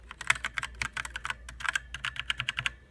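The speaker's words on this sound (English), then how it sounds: "This is like a membrane keyboard." Fingers type on a membrane keyboard, a quick, uneven run of soft, muffled key presses close up, with brief pauses between bursts and no talking.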